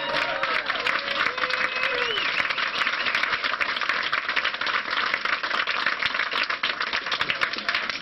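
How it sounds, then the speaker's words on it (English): Sustained audience applause for a speaker at a small bookstore event, dense, fairly close clapping that continues without a break, with a few faint whoops or voices riding over it. "give him a round of applause"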